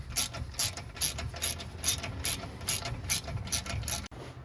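A 10 mm ratchet wrench clicks in a steady, close rhythm while removing the front brake bolts on a Mercedes GL450, ending with a sharp knock.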